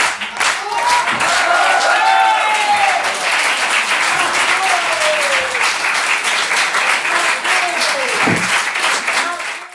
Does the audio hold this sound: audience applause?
yes